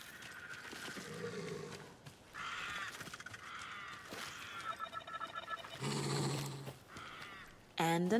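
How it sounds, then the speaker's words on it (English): Crow caws ring out in the outdoor setting of the Alan Wake 2 video game, several harsh calls spaced across the clip over ambient game sound and a layer of speech-like voice. "I hear a crow outside."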